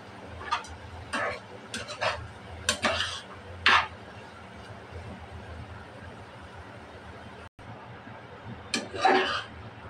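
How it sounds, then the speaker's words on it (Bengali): Fried spiny gourd with shrimp is stirred in a pan, with repeated spatula scrapes and clinks over a soft background hiss of cooking. "আবার একটু নাড়াচাড়া করে নেব"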